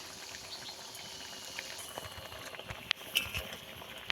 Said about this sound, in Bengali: এবার কিছুক্ষণ ফুটিয়ে নেব